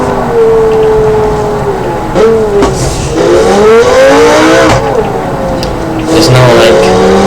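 Simulated supercar engine in BeamNG.drive, its pitch sliding up and down through gear changes and revs, running steadily throughout with brief tire squeal, while someone talks over it.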